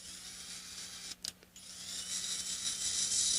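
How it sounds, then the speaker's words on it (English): A drill bit bores into wood for a guitar body build, giving a faint, continuous grinding whir with a short break partway through before the cutting resumes and grows a little stronger. "the wood grain as the drill bit starts cutting the fibers"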